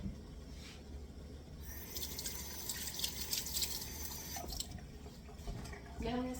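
A pot of stock sits on a stove with soft bubbling and watery dripping and gurgling, faint and steady and close by, and a brief tonal sound rises near the end.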